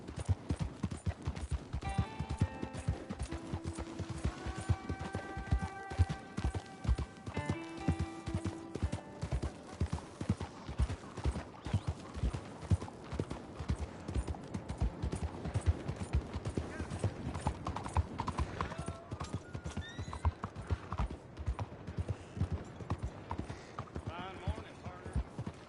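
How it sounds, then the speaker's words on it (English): Horse hooves clip-clop in a steady rhythm on hard ground in the game Wild Wild West, near and continuous, with voices talking over them and occasional high ringing tones. "Fine horse you got there."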